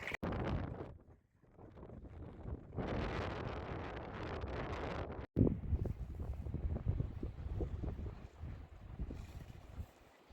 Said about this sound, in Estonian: Tuul on selja tagant meil ja kannab ilma, et ma üldse liigutakse.